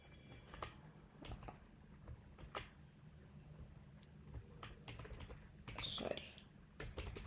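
Fingers tap out code on a computer keyboard while a Node.js chat server is written, with scattered, faint clicks in irregular bursts against a quiet room hum.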